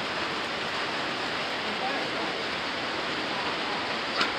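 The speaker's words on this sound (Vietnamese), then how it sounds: "thôi, trời mưa quá nhỉ." Heavy rain pours down in a constant, dense hiss that stays level throughout, a broad, steady wash without breaks, with one tiny tap near the end.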